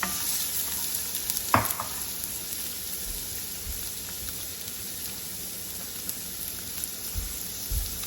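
Onions dropped into avocado oil in a pan, a steady faint hiss of frying with a brief clatter near the start and a few soft bumps later, close and quiet, no speech.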